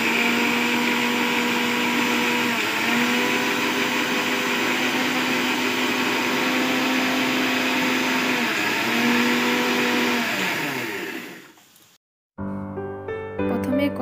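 A blender grinds onion paste with added water in a loud, steady whirring roar for about twelve seconds, then winds down and stops, followed by a brief stretch of music.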